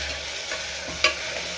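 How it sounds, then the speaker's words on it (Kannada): Green peas frying in a hot tempering, a brief steady sizzle with a single quick stirring scrape partway through. "ಬಟಾಣಿ ಒಗ್ಗರಣೆಗೆ ಹಾಕೋಬೇಕು ತಾನೆ?"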